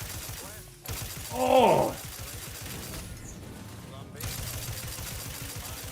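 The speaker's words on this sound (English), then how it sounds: "who's shooting from down there?" Gunfire erupts in The Outer Worlds 2, a sci-fi shooter, coming as loud bursts of shots amid game effects and a voice speaking over the fighting.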